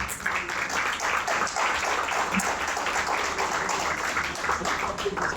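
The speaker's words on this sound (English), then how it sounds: "big applause for her" Congress audience applauding in Jhansi, a continuous wash of clapping at moderate level lasting several seconds, with faint voices underneath.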